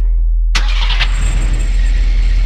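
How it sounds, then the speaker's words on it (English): A car engine cranks for about half a second, then catches and settles into a steady idle that carries on alone to the end. "or a car starting"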